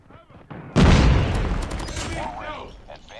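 Loud close gunfire from the HVK rifle in Call of Duty Mobile, a sudden heavy burst that rings out and trails off over a few seconds while someone talks.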